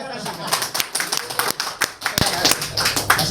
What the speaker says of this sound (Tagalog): Palakpakan natin Sir Joey.